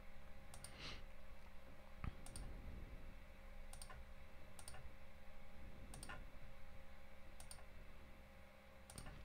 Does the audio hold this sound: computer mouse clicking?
yes